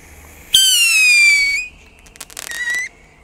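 A long descending whistle screams out loudly, then a second shorter whistle follows amid crackling pops, like Leslie Naughty Screamer firework rockets shrieking skyward.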